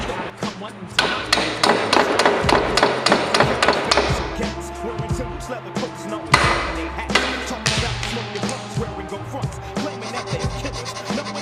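A stuck part on a skateboard truck is struck with a hammer during a conversion-kit fitting, a run of sharp, irregular metallic and wooden knocks and scrapes, close and loud, with brief pauses between bursts.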